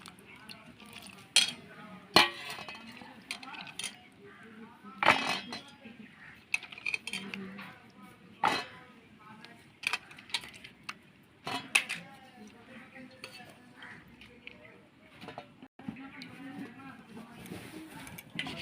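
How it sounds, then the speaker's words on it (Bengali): Cut cauliflower pieces being washed in a bowl, with irregular clatters, clinks and splashy rustles of handling, while a person talks at intervals. "এবার আমি ধুয়ে নেব ফুলকপিগুলো"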